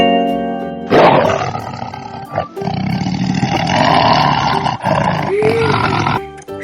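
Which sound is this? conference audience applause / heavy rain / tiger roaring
tiger roaring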